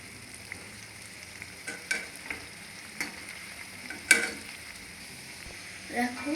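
Kuli pitha fry in hot oil in a wok, a soft continuous sizzle under scattered stirring clicks and scrapes of a spatula, close and fairly quiet.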